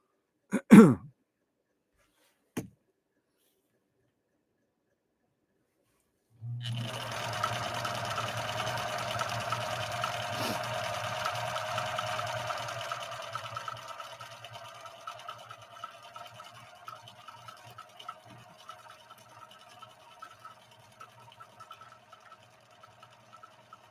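A Viking 6020 sewing machine stitching a scallop stitch: a couple of sharp clicks, then a steady, close mechanical whir with a low hum that runs for about ten seconds before loosening into uneven, slowing stitch pulses.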